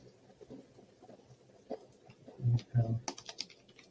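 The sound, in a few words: typing tags on computer keyboard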